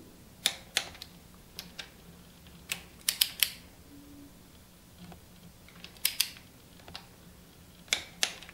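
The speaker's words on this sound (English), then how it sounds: "We've got our torque wrench set to 15 foot-pounds" Torque wrench set to 15 foot-pounds tightening stock rod bolts on a GM Gen V engine with an 11 mm socket, quiet ratcheting clicks in short irregular bursts, some in quick pairs and triplets.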